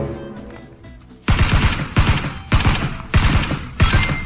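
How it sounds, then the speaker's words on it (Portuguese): Gunfire in the video game PUBG: a loud, close series of five or six sharp bursts of shots at a steady rhythm, following a quieter stretch. "ó o tiro comendo"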